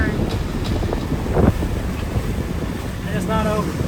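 Waves splash against the side of a sailboat in the Gulf Stream amid squalls, under a constant roar of wind buffeting the microphone, with irregular slaps of water and no letup.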